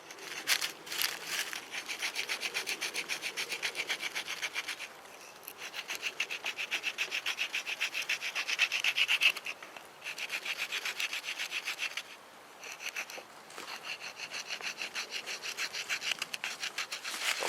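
A wooden bow drill spindle is shaped without a knife outdoors, giving close, rhythmic scraping and rasping strokes in steady bursts with short pauses between them.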